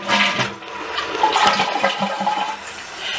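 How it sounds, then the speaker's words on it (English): A dual-flush, water-saving toilet flushes in a single close, loud rush of water that swirls and drains over about three seconds, with no voices. "A customer hired us to install a new dual flush water saving toilet."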